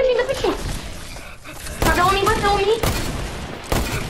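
Gunfire in the video game Fortnite, several loud broadband bursts in quick succession from close range, mixed under excited talking from a player.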